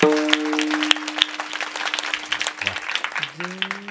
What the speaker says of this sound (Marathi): नाही आवडलं असेल तर मनातून टाळ्या वाजवा यांच्यासाठी